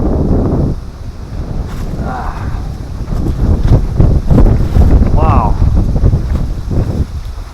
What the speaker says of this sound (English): Sorry for the wind, folks.